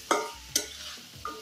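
Garlic sizzling with spices in a pan over medium heat for a Cox's Bazar hotel-style dried loitta fish dish, with sharp stirring scrapes at intervals over a steady quiet fry.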